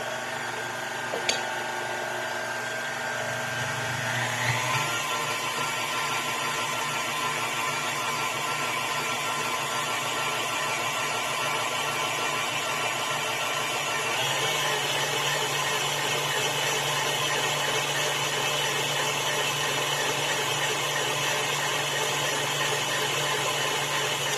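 Electric stand mixer kneading bread dough, a steady mechanical whir and motor hum running continuously at close range, rising slightly in pitch early on and holding a constant drone throughout.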